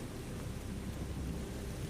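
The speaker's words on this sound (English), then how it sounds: "Soon, a light shower washed over the entire village." A light rain shower falls over a village, heard as a steady, faint broadband hiss with a low rumble underneath that may be distant thunder.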